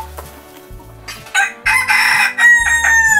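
A rooster crows loudly and close by, a drawn-out call with a few shorter clucks before it.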